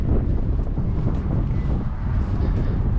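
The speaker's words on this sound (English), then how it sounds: "It's a little bit windy," Strong wind buffets a microphone at an Iceland campsite, a loud and steady low roar with no breaks and no voices.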